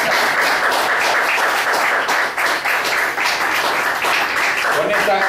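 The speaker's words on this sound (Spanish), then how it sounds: "Aplausos." Steady applause from an audience at a Spanish-language political talk, a dense wash of many hands clapping at once, loud and continuous throughout without a break.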